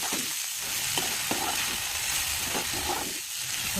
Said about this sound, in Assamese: ধুনীয়াকৈ মই লাৰি দিছোঁ এইটো।